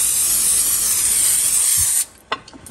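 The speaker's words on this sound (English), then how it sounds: "I have an 11 by 7-inch pan that I'm going to spray with cooking spray" Cooking spray is misted into an 11 by 7-inch baking pan in one long, steady aerosol hiss lasting about two seconds, then stops, leaving a few light clicks and taps of the can and pan.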